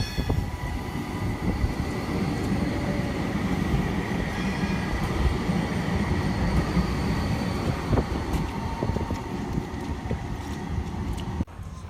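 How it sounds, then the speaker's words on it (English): A Porto metro train rumbles steadily across a high railway bridge over the river, its wheels and carriages producing a continuous, fairly loud clatter for the whole stretch. "And here is the train coming across the bridge,"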